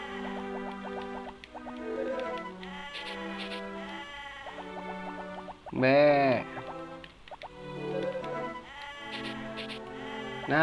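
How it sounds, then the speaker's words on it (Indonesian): A goat bleats in the farming game Harvest Moon: Friends of Mineral Town during winter, with two short wavering bleats standing out over steady melodic game music. "gue bisa dengar suara kambing"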